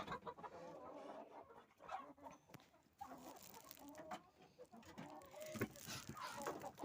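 Chickens clucking and two roosters calling in a busy farmyard, with overlapping bird calls and rustling throughout, fairly close and steady.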